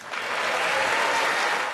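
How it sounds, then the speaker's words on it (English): A short burst of enthusiastic applause from a large crowd at a presidential State of the Union address, steady and dense throughout. "That got some enthusiastic applause from the Democrat"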